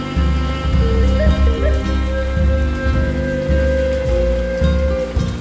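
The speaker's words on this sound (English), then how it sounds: "Uncle Pur woke to the rhythm of rain" Steady rain falls across the whole stretch as a constant wash of drops, with a sustained musical tone running over it and no speech.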